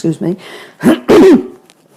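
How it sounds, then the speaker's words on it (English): A person clears their throat with a couple of short rasping grunts, close and loud, in a quiet room. "clear my throat"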